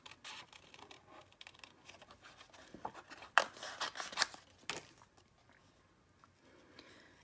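Scissors snip through embossed cardstock, trimming around a pitcher image: quiet rustling paper handling, then a cluster of crisp close cuts in the middle before things go quiet again.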